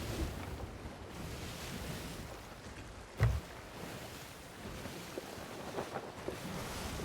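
Ocean waves in the pirate sailing game Sea of Thieves: a steady, faint wash of surf and wind around a boat, with one brief louder thump partway through.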